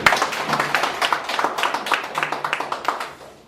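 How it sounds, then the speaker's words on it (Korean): A small audience at a UN peace organization guest lecture event claps in distinct, rhythmic bursts of individual hand claps close by, steady throughout and without talk over it. "우리 한번 박수 한번 좀 부탁드리겠습니다"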